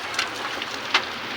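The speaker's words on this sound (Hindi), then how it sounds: "केते जोर रे वर्षा हो देखो यार" Steady heavy rain pours in an Odia village, a dense continuous hiss with a few louder splashes or patters standing out near the end; no talking.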